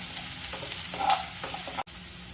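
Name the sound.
onion frying in oil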